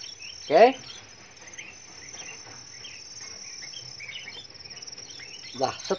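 Crickets in a cricket farm chirp steadily in a continuous high trill, with a couple of brief knocks nearby.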